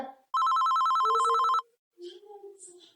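A telephone plays a loud, steady electronic ringtone for about a second. It is followed by a voice speaking close by in a Gujarati comedy sketch.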